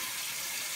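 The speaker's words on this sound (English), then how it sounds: "So let's go ahead and do a quick rinse." Water rinses a beer sampling tool during brewing, a brief, steady hissing splash like running tap water, close and continuous.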